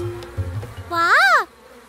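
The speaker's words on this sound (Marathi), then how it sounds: "या मधमाशा पाऊस येण्याची बातमी देत आहेत" A cartoon bee gives a single short, rising-and-falling buzz lasting about half a second, loud and close, after a few soft thumps.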